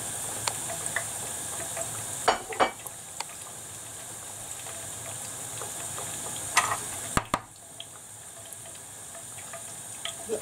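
Chicken pieces frying in oil in a pan for a Jack Daniel's chicken recipe, a constant close sizzle with a few sharp clicks and clatters from handling partway through.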